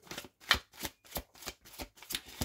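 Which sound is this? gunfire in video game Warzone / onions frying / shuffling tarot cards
shuffling tarot cards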